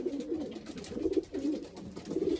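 Racing pigeon cocks in a loft coo in soft, repeated throaty rolls. The calls come close and steady across the stretch, with no other sounds.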